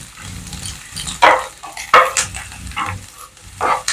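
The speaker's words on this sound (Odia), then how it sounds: "ସେ ଭାଜା ହବ ତ ସେଥିରେ ଚିଙ୍ଗୁଡି ଆଉ ପିଆଜ ଏକା ସାଙ୍ଗେ ଆମର ଭାଜି ହେଇଯିବ।" Prawns and onions fry together in a pan, a loud close sizzle punctuated by repeated scraping and rattling bursts as the mixture is stirred.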